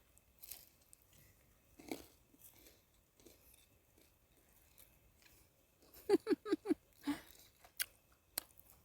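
Someone chews pizza outdoors in a forest, with a quick run of close, crisp bites and crunches after quieter rustling, and no talk.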